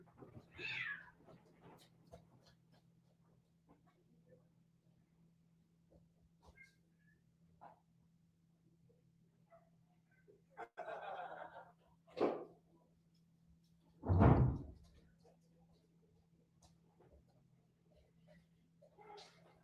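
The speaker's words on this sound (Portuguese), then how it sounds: "Eu tenho um gato muito bravo que briga com a minha outra gata. Eu escutei ela miando porque ele foi atacar ela." Two house cats fighting indoors, one meowing and yowling in a few short, fairly loud bursts spaced over several seconds, with a steady low hum and quiet room noise between them.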